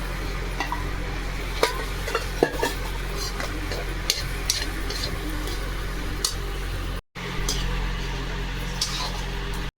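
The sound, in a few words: stirring mashed potatoes into thick curry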